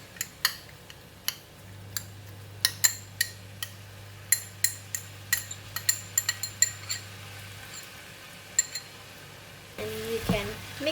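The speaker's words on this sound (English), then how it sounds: "and you can mix it together" A metal spatula clinks and scrapes repeatedly against a pan while capsicum fried rice with egg, tomato sauce and garlic is mixed, the taps irregular over a low hum and faint sizzle, with a brief rustle near the end.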